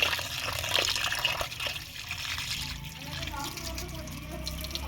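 Running water splashes and trickles as mutton and chicken are rinsed in a kitchen, a close, uneven wash, with a voice speaking over part of it.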